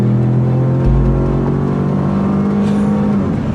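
A 2015 Ford F-150 with the 2.7L engine launches hard with wheel spin, its engine droning loudly in a steady, rising tone over a deep rumble, close and continuous.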